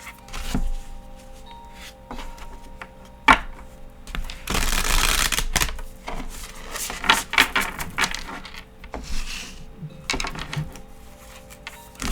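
Tarot cards are shuffled by hand close up in irregular riffling bursts with soft slaps and taps between them, one longer dense flutter in the middle, quiet in the gaps.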